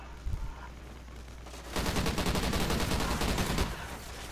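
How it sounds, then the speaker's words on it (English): Rapid automatic gunfire erupts in a Call of Duty Ghosts multiplayer team deathmatch, a loud, dense burst rattling for about two seconds after a quieter lead-in, then cutting off. "I saw you firing at him"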